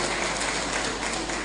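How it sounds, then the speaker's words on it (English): A hall audience applauds performers at an African Traditional Medicine Day 2024 gathering, a steady, muffled wash of clapping, fairly faint and even, with no talking. "Please a round of applause for them one more time."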